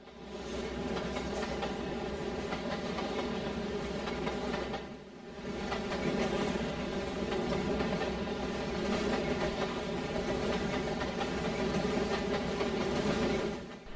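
Freight train in Trainz led by a Canadian Pacific AC4400CW, a CN ET44 and a Wisconsin Central CN heritage unit passing on the Gregsville Subdivision, with steady rumble and rhythmic wheel clatter, a brief dip near the middle, then continuing.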